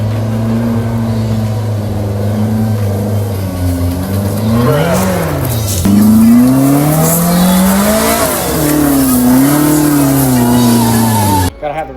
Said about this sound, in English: the RPM race exhaust, which is sick, sounds good, but like I said, cannot hear yourself think at all